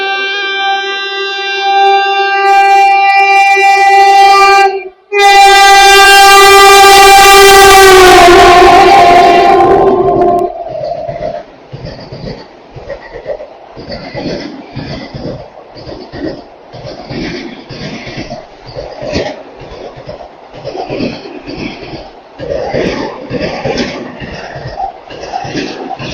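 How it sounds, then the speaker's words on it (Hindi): A saffron-coloured 20-coach Vande Bharat express, train 22426, announces itself with a loud, sustained horn blast, then rushes past with a rapid clatter of wheels over rail joints, rhythmic and close, with no talk. "तो दोस्तों ये निकली अपनी बनारस वंदे भारत, जो कि अब भगवा रंग में हो चुकी है"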